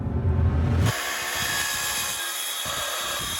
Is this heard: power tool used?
yes